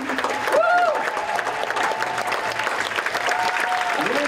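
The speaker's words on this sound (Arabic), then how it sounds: "دخل نجوم العمل مع المخرج توفيق الزايدي إلى القاعة المليانة بالجمهور اللي ما وقفوا تصفيق وترحيب بهم" A packed cinema hall at the Cannes Film Festival applauds as a film's cast and director enter, sustained crowd clapping and cheering throughout, with faint voices and a whistle-like tone rising through the mix.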